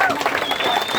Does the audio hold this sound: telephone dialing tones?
no